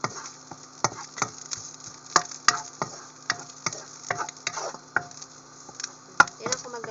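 Garlic frying in a pan for shrimp fried rice, soft sizzling under sharp, irregular clicks and taps of a utensil against the pan, close and moderately quiet.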